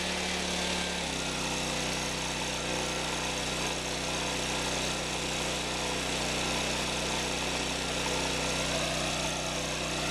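A Honda EX1000 generator engine runs steadily under a 500 watt work-light load, a loud continuous hum and buzz with a small shift in tone near the start, then holding even throughout.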